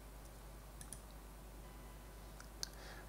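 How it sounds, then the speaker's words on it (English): A few sparse computer mouse button clicks in a quiet room, faint and widely spaced, during astrophotography software setup. "we can do that by clicking on this button here"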